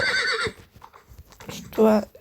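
A horse in a video game whinnies loudly at the start and again near the end, with soft hoof thuds between, while a person talks over it.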